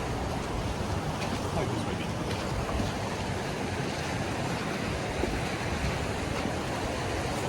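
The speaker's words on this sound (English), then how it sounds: "As you guys can hear the little, tiny little waterfalls." Small waterfalls on a hiking trail send a steady, broadband rush of flowing water, continuous and fairly soft throughout with no clear breaks.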